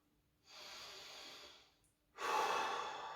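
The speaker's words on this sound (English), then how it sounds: "Really important to keep deep breathing in these stretches." Deep, slow breaths during a stretching routine: a long exhale, a brief pause, then a louder, stronger breath, close and clear with no talking.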